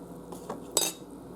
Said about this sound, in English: So I'm just going to give it a quick stir to get everything off the bottom